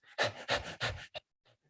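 A man imitates a dog panting, several quick, loud breathy huffs in a rapid rhythm followed by a couple of fainter breaths, close and alone.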